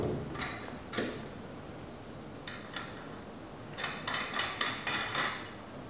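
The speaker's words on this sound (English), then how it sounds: "So take the wheel and install it over the 4 wheel studs and install" Steel lug nuts being set onto the four wheel studs of a Tow and Collect Mini tow-behind collector, giving a few sparse metallic ticks and clinks, then a faster run of clicks near the end, close and quiet with no talk.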